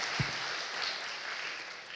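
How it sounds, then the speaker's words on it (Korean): At a Christmas Day church service, the congregation gives the choir a round of applause, a soft, steady crowd of clapping hands heard at moderate distance, with one low thump near the start. "우리 찬양대 다시 한번 박수해 주시기 바랍니다."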